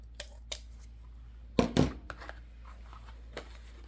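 Scissors snip through the ribbon tail of a wreath bow, a few crisp cuts clustered together with faint handling rustles before and after, close and fairly quiet.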